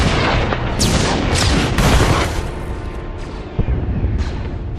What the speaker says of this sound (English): The orbital strike has secured the landing area perimeter.